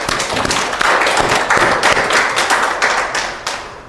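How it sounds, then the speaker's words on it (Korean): Korean church congregation clapping together during a Mother's Day Sunday service, a brisk, fairly loud burst of many hands with distinct slaps, fading slightly toward the end. "우리 하나님께 감사 영광을 돌리고 부모님께 감사하는 박수 한번 드려보겠습니다."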